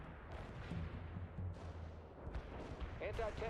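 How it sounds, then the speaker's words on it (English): Artillery fire rumbles through a Cold War battlefield game, a continuous low booming barrage with scattered sharper blasts, steady and moderately loud throughout, with radio-style voices breaking in near the end. "Ooh, random artillery."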